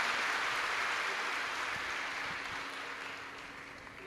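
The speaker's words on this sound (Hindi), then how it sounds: "एक बार यजमान परिवार के लिए जोरदार ताली बजाकर स्वागत" A large audience at a Shiv Mahapuran katha in Jalgaon breaks into loud, sustained applause for the host family, a dense wash of clapping that slowly fades.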